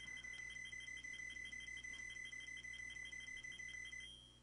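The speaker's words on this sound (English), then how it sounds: "the annoying high-pitched beeping as all your credits line up" Castlevania on the NES sounds a rapid, steady string of high-pitched electronic beeps as the score tallies, running loud and continuous before cutting off and fading near the end.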